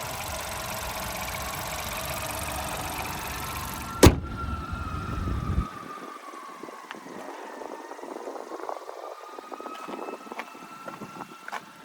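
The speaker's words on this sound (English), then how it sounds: "And there you have that 1-liter EcoBoosted 3-cylinder." Small 1-liter EcoBoost three-cylinder in a 2021 Ford EcoSport S idling steadily, loud at first, then a sharp clunk near four seconds before the hum drops to a quieter, even idle with faint tones.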